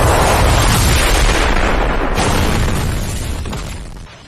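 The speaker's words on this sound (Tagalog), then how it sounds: "Pagkatapos noon, nagkaroon ng malaking pagsabog at napadapa na lamang ang ating mga bida para makaiwas sa atake ng higanting estatwa." A huge explosion as a giant statue attacks in an animated fantasy series, a loud, sustained broadband roar filling the whole clip before slowly tapering off at the end, with no talk.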